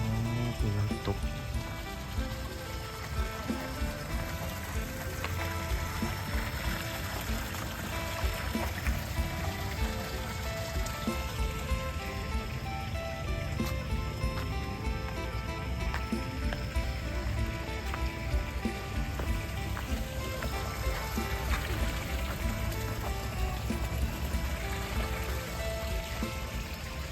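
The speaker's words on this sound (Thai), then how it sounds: "มีน้ำตก" A waterfall at a temple site near Savannakhet pours in a constant broadband rush, steady and fairly distant, with faint music or voices mixed in.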